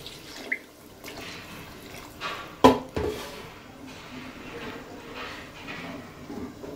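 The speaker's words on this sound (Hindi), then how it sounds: "अब इसमें आपने इतना पानी शामिल करना है कि जितना आपको शोरबा चाहिए" Water splashes into a pot of egg and potato curry with a sharp clatter partway through, followed by a steady soft sloshing and faint background noise.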